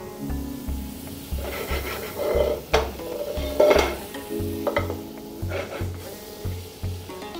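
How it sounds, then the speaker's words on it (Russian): Chicken legs sizzle steadily in butter in a frying pan, with a rhythmic scraping of a utensil stirring and turning them at close range and no talking. "закидываем сливочное масло и обжариваем до золотистой корочки наши ножки куриные"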